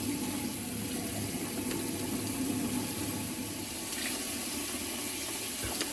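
Tap water runs steadily from a faucet into a bathroom sink during toothbrushing in Korea, a continuous close rushing flow that stays constant throughout with no talking.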